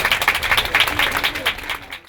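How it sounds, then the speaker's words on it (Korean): Audience applause welcoming the university president at Hanseo University's Korean speaking contest for international students, with close, rhythmic clapping bursts throughout and a voice underneath. "큰 박수로 환영해 주시기 바랍니다."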